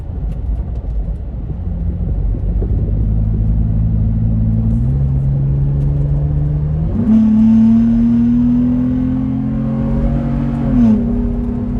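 A 5th-generation Toyota 4Runner's throaty MagnaFlow Overland Series exhaust idles, then the engine is revved in two rising pulls, deep and loud, with no talking.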